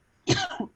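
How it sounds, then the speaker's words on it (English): A single short, close cough with a rough burst and a smaller second catch right after, alone in a quiet room. "You were coughing."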